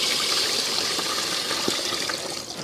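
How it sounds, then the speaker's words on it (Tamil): Water gushes steadily into a pot holding country chicken pieces until the meat is covered, a continuous close splashing pour without pause. "கறி முங்குற அளவுக்கு தண்ணி சேர்த்துக்கலாங்க"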